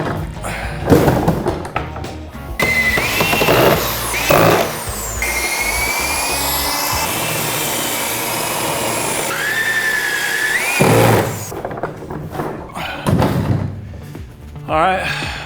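A power drill countersinks screw holes while a rack is being built. A sustained, pitched drilling whine holds for several seconds in the middle, and a person talks before and after it along with some thumps.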